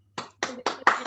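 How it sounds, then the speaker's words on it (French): Four sharp, close hand claps sound in quick, even succession, alone with no voices. "On applaudit, hein."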